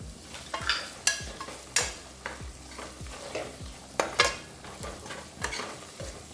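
Spices stirred and sautéing in a pan for goat lung gravy, with repeated spoon scrapes and knocks against the pan in an uneven rhythm over a soft background sizzle, close and fairly quiet.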